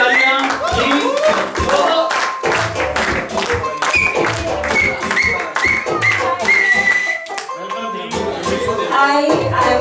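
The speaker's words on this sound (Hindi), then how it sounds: "भाई ढेर सारी तालियां प्लीज।" Audience clapping at an award night held as a 40th birthday party, dense and continuous for about ten seconds, mixed with cheering, whistles and voices calling out over the claps.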